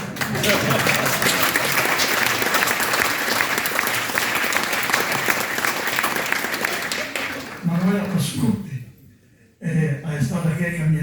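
Audience at a community tribute gathering in Friuli breaks into dense, sustained applause for about eight seconds, then it thins and fades, with voices rising as it dies away.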